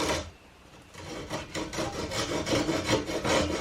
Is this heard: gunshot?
no